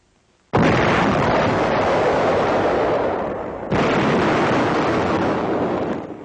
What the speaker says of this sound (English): the gunner pushes the firing button.